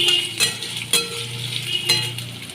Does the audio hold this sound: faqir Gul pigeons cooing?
no